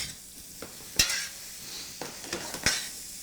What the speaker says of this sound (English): The shrimp browning up very nicely here.